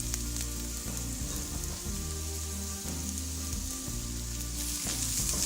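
Onions sautéing with ginger garlic paste in a pot for mushroom biryani crackle in a dense, rain-like sizzle at moderate volume, with faint stirring taps; no voices.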